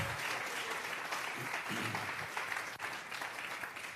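A church congregation claps and applauds together in a steady, dense wash of hand claps that stays even throughout, with faint voices underneath.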